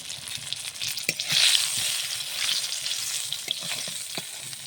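Eggplant frying in a pan, a steady close sizzle with a brief louder hiss and occasional soft taps of stirring.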